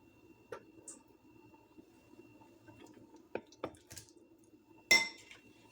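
Chicken cubes drop into a bowl of colorful vegetables for Mediterranean chicken kebabs, making a few soft, wet squishes and light clinks of a utensil against the bowl. The sounds are scattered and close, with no talking.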